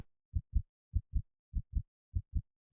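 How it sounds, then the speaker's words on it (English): A character's heartbeat thumps in the video game Highway Blossoms, deep paired lub-dub pulses repeating four times in a slow, even rhythm against silence. "You can hear the heart thumping. Her heartbeat."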